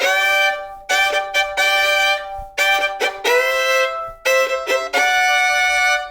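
Fiddle playing the guitar intro to a song, a bright bowed melody in quick phrases with short gaps between them, close and clear, with no talking.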